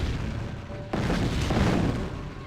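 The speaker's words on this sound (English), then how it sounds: "Are you actually shooting him through the wall?" A unit in the Tiberian Sun strategy game fires at an enemy through a wall, a heavy booming shot rolling out over dense rumbling noise, followed by a second dull blast, loud and close.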